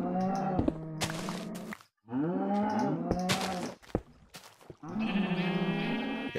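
Cows on a video game cow farm moo loudly in several long, drawn-out calls, one after another with short gaps between them, close and clear with no talking.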